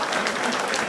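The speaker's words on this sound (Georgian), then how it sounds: "აპლოდისმენტების ქუხილი გვინდა" Dense crowd applause after a fight at a GAMA combat sports event, a thick continuous wash of many hands clapping, loud and steady through the short moment.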